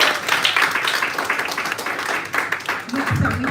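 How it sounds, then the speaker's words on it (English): An audience applauds with steady, fairly loud crowd clapping at a writers' cohort finale event, and a voice begins speaking as the clapping fades near the end. "Let's give a round of applause for Richard."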